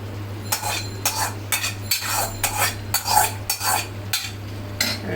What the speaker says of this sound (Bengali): আর দিয়ে দিচ্ছি সেই যে ভেজে রেখেছিলাম কিশমিশ আর গাজর সেগুলো